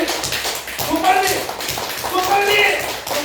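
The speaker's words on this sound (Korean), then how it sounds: "손바닥 전체를 힘을 쫙 펴가지고 아주 손 열렬하게 크게 박수 치는 거" Audience clapping loudly with open palms, a dense, fast run of hand claps from many people in a room, continuous and fairly loud, with a voice speaking over it.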